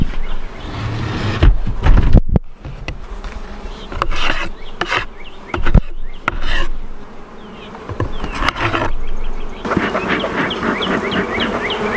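Honey bees buzz around an opened hive with a solid bottom board during a routine inspection, a close, rising and falling drone broken by rustling handling noises and scrapes.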